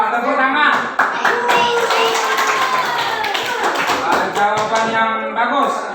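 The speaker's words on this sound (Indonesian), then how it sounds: "Tepuk tangan." Hands clapping together in a classroom, a burst of quick group claps mixed with children's voices and chatter throughout, fairly loud and close.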